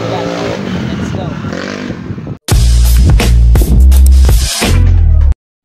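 A motorcycle ridden on a market trip, its engine and wind rumbling loud and close after a brief cutoff, with steady broadband roar and surges that end abruptly.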